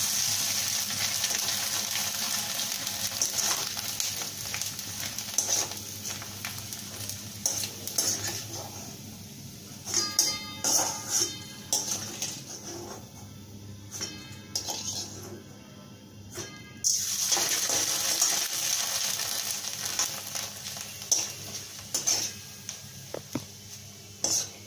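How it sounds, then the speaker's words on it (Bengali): Rice papads frying in hot oil in a pan, with steady sizzling and bursts of crackle alongside repeated clinks and scrapes of a metal utensil against the pan, fairly close throughout. "খুব কম সময়ে পাপড়গুলো ভাজা হয়ে যায়"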